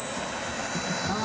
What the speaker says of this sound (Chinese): 刚刚我们右边飞的呢是F16战斗机